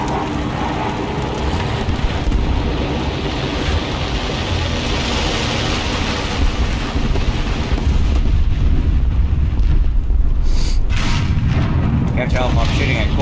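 A Tiger I tank cannon fires and its shell detonates in a tank video game, a heavy booming blast within dense, continuous roaring battle noise and rumble that runs throughout.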